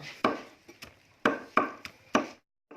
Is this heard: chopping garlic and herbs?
yes